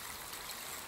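In the video game Palworld, crops get watered with a steady, soft splashing hiss of running water, heard briefly and continuously at low volume.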